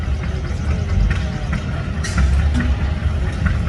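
At a tractor pull, a 282 diesel in a 560 Wheatland tractor idles with a heavy, even low-pitched drone, loud and unbroken, with light ambient noise over it.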